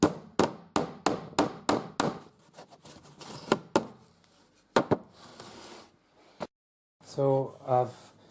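A hammer drives nails into a wooden boat deck beam batten with about a dozen sharp, close, evenly spaced knocks, then a few scattered taps, followed by a brief voice at the end.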